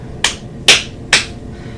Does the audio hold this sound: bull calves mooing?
no